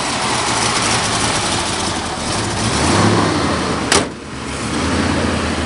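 A big Ford Torino Squire 429 Super Cobra Jet V8 idles with a deep, rough rumble, swelling slightly before a brief click-like burst, steady and close.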